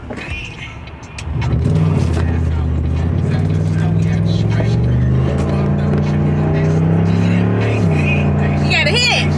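A car engine surges and holds a loud, rising drone as the car accelerates hard on a busy road, the revs climbing in steps through gear changes, with voices in the cabin.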